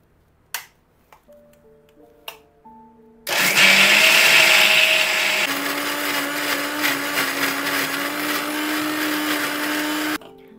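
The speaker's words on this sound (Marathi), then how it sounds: "मिक्सरच्या भांड्यात आधी जेवढी उडदाची डाळ मावेल तेवढी एक एक चमचा करून मी आधी काढून घेतली आणि सगळ्यात आधी ती मिक्सरला फिरवून घेतली" A kitchen mixer grinder churns soaked urad dal, starting abruptly after a few light clicks and running loud and steady with a high whirring whine that shifts pitch partway, then cutting off.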